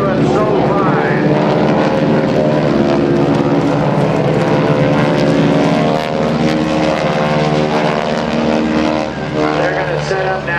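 Propeller aircraft of the Aeroshell Aerobatic Team fly over an air force base open house airshow, a loud continuous droning engine and propeller roar with shifting pitch, under a public-address announcer's talk.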